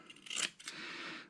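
Scissors snip through fabric in a few quick close cuts, followed by a steady rasping slide of the blades through fabric, while cutting relief cuts in aircraft wing root fairing covering.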